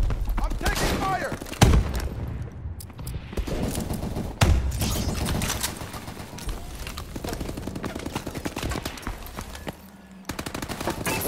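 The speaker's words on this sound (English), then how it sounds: "I'm taking fire." Automatic gunfire and sharp explosive bursts from the futuristic shooter game Call of Duty: Advanced Warfare, loud and rapid throughout, with heavy impacts near the start and middle and radio-style voices mixed in.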